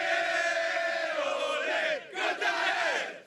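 Palmeiras supporters in Lima chant in unison before the Libertadores final against Flamengo, a loud massed roar of voices that dips briefly and swells again close by.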